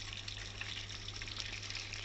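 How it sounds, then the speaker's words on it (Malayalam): A Panasonic 6.7 kg top-load fully automatic washing machine set to quick mode fills with water, a steady, even rush of inflowing water with a low hum beneath, continuous and unbroken throughout. "ഇപ്പോൾ വാട്ടർ വന്നു തുടങ്ങി."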